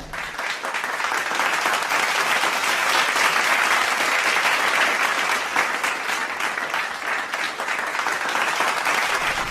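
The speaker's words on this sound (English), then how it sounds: "Let's give a huge round of applause to all the winners." Audience applauding competition winners at an Independence Day school celebration, a sustained, even wash of many hands clapping at moderate distance with no talk over it.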